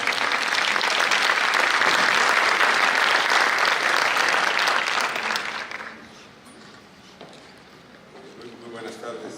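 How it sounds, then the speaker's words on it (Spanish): An audience at a public health lecture breaks into strong applause for about five seconds. It fades into quieter room noise, and faint talk follows. "Aplausos, aplausos."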